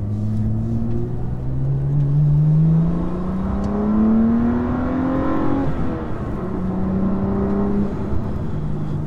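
A BMW M2 CS with valved exhaust under way, the engine note rising through the revs in a long pull, easing off, then climbing again, heard from inside the car with no talk.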